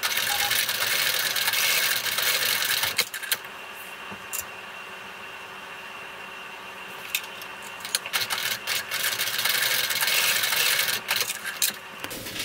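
A sewing machine stitches back and forth across a strap on a fabric phone bag, running in two steady whirring stretches separated by a quieter pause with small clicks.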